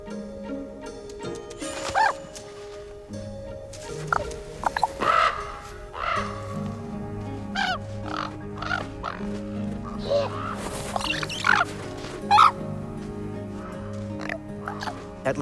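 Ravens call around a carcass in a northern forest, with repeated harsh croaks, gurgling knocks and clicks scattered irregularly, some close and loud, others softer, with no voices.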